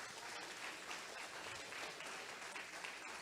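A church congregation at a worship service applauds, with many hands clapping in a continuous, reverberant wash, faint and distant, lasting about three seconds and holding no talk.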